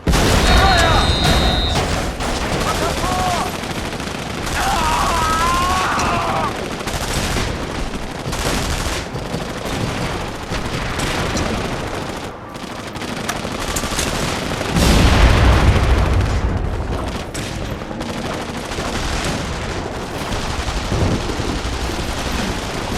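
Gunfire in The Saboteur crackles through a busy firefight, with dense, overlapping shots and bangs continuing throughout, along with scattered louder booms and some voices.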